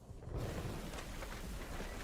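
Heavy rain pours over deep, rolling thunder in a wartime Pacific jungle scene, loud and continuous, with no voices.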